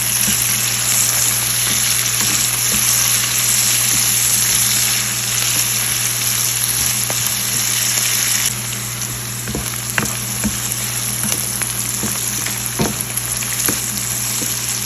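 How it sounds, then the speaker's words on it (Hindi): Onions with a pinch of salt sauté in a pan for butter paneer masala, giving a steady, loud, close sizzle that runs the whole time with occasional faint stirring ticks. "और थोड़ा सा जो है प्याज करेंगे सॉफ्ट। थोड़ा सा नमक शामिल करेंगे"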